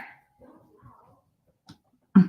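Dogs let out a few scattered whines and one louder bark close by, separated by quiet gaps, with a voice heard briefly.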